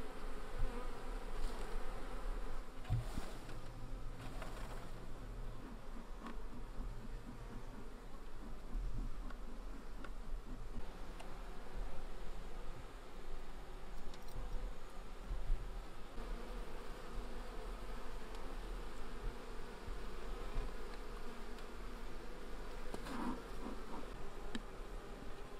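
Swarm of honey bees buzzing steadily as they are shaken out of a shipping package into a hive after a northern winter, a dense continuous drone with scattered closer passes and light rustling, no voices.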